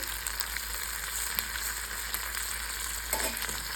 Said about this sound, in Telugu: కొద్దిగా కలిపి అలాగా ముక్క బాగా మెత్తపడిన దాకా వేగించుకోవాలి.